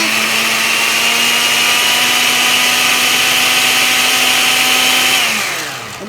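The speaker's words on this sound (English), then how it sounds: "So I'm gonna begin by just grinding it." Kitchen blender grinding a hot dog in salt water, a loud steady motor whine with a constant pitch running for several seconds before spinning down at the end.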